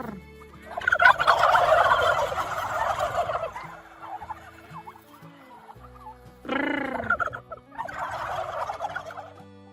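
Several turkeys at a turkey farm gobble loudly and close by in bursts of rapid, warbling calls, with short quieter pauses between them.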